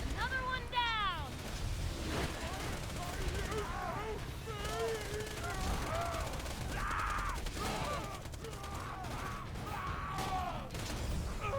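Rapid SMG gunfire bursts from the video game Borderlands 2, repeating across the scene under game music and effects, with no talking heard.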